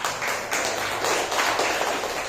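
A classroom of students claps for a student group that has just presented, a steady, fairly loud stretch of many hands applauding together with no voices over it.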